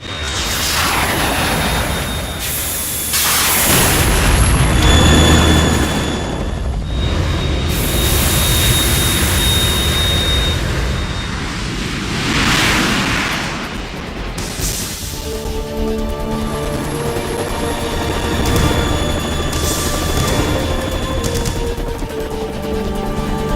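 A Harrier jet roars in Metal Gear Solid amid explosions, with loud whooshing engine swells and heavy booming blasts layered with game sound effects and ringing tones, all without talk.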